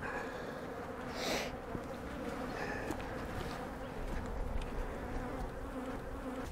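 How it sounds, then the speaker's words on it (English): Honey bees buzz around an open beehive outdoors during supers installation, a steady dense drone of many insects close by, with occasional louder passes near the ear. "Okay, I just got a bee in my veil"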